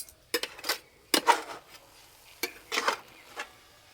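A metal plate is lifted off a pot where onion fritters wrapped in jackfruit leaves are steaming, producing several close, sharp clanks and scrapes in quick clusters separated by brief quiet gaps.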